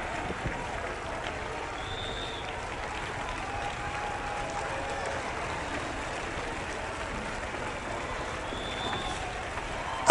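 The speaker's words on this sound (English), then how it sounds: "Clap your hands like you're a swimmer!" A church congregation claps along through a lively, charismatic service, a dense and steady wash of applause that holds evenly throughout at moderate distance.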